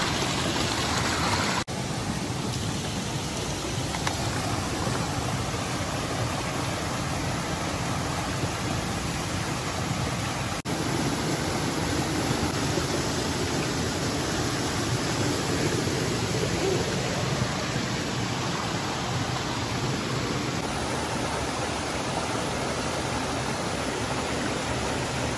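Rapids on a forest river rush in a loud, steady, unbroken roar of churning water, close by and continuous with no voices.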